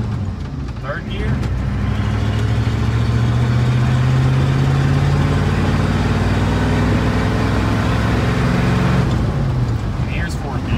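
A 6.9/7.3 litre diesel truck engine runs loud and close throughout, holding a steady low rumble that rises and eases as it works through the gears, with a brief pause in revs near the end.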